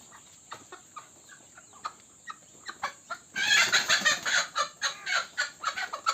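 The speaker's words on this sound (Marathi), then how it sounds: "ही कोंबडी इथे अंड्यावर जात आहे." Desi hens cluck in a free-range poultry farm shed, a steady run of short, close clucks that grows louder and busier in the second half, with no talking.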